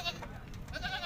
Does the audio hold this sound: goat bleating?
yes